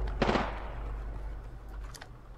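A short burst of gunfire from the video game Resident Evil 2 cracks out near the start, then fades into a low background rumble with a couple of faint later pops.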